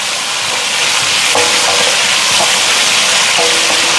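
Instant noodles frying in a pan on a home stove give a steady, loud broadband sizzle with faint stirring clatter, continuous throughout and with no talking.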